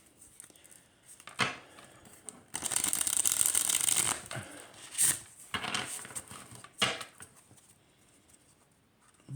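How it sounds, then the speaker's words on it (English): Light Seers Pocket Tarot cards get a bridge shuffle, with several quick riffling bursts and soft taps and handling noises between them, close and fairly quiet. "now let's do a bridge shuffle"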